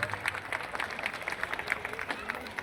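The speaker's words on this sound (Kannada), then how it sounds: "ಅವರಿಗೆ ನಾನು ಜೋರಾದ ಚಪ್ಪಾಳೆ ಮೂಲಕ ಈ ಒಂದು ಕಾರ್ಯಕ್ರಮಕ್ಕೆ ಸ್ವಾಗತಿಸ್ತೇನೆ." Audience applause welcoming guests at a music program in Bengaluru, a steady wash of many hands clapping with crowd noise throughout.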